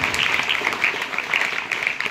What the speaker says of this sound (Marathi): त्या विद्यार्थ्यांचा आपण जोरदार टाळ्या वाजवून स्वागत करूया।